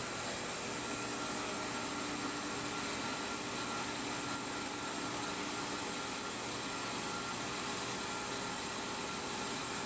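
Sawmill blade machine powered by two 30 horsepower engines, cutting logs for guitar wood: a steady, dense, broadband mechanical roar with a constant hum, holding unchanged at a moderate level throughout with no voices.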